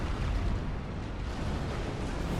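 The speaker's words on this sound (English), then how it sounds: "Gotta run away from that explosion." A broadband rumbling blast roars steadily in the video game Bloodborne, a dense, sustained noise filling the whole clip with no distinct separate bangs.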